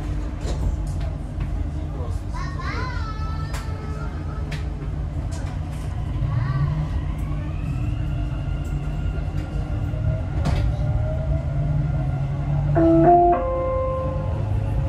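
Dubai Metro train in 2023 pulling away after its doors close, a steady low rumble of motors and rails with rising whine tones and brief chimes, heard from inside the carriage with faint announcements over it.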